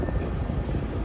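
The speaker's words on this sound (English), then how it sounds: "This is a yard job that was working on building trains here at Howell." A yard job at Howell in the Evansville, Indiana area rumbles along while building trains, a steady low-pitched mechanical roar of rail cars and locomotive, close and constant with no voices.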